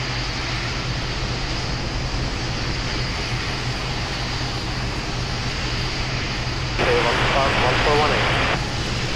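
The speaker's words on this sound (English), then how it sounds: "Reverse thrust deploy 70 knots." Boeing 727 jet engines roar steadily in reverse thrust on a Captain Sim flight simulator landing, a constant broadband rumble that swells briefly louder near the end.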